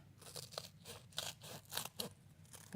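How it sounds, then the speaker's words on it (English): Scissors snip repeatedly through a sticky sheet in a series of crisp crunchy cuts, close and fairly quiet, with short pauses between snips. "I'm just going to hold it and grab some scissors"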